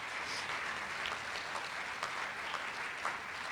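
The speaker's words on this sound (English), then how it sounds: "I think that deserves a round of applause." At a school winter sports awards event, a crowd applauds steadily, an even, continuous patter of many hands clapping at moderate volume with no talk over it.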